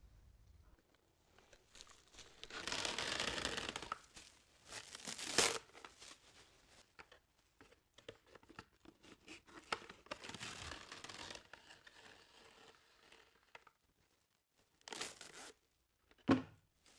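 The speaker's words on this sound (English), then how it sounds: "Get rid of the first 2 turns of film and then apply it lengthways over the burn" Cling film is unrolled and torn during first aid for a burn, giving several bursts of crinkling and tearing, fairly quiet and close, separated by short pauses with no talk.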